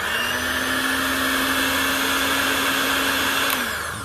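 A motorised stirrer churns cold AMSOIL 75W-140 synthetic gear oil with a steady, loud, whirring hum at constant pitch that holds for several seconds, then winds down near the end.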